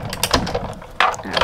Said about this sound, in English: kind of put a little pressure, and send it through the machine